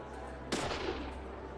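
A single loud pistol shot in the video game Deadly Premonition's final fight, a sharp close crack with a brief decaying tail over a low steady background hum.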